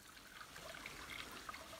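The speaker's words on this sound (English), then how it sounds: "It's got water and it's falling, so that's a waterfall." A small waterfall trickles on the Ouachita Trail, giving a soft, steady wash of falling water with faint splashy detail, quiet and fairly close, with no voices.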